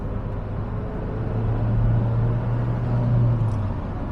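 An MG British sports car engine drones low and steady while driving after a downshift, swelling somewhat louder midway through and holding a continuous rumble with no voices.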